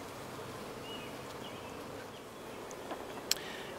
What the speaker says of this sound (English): A lot of bees have come up to see what's going on.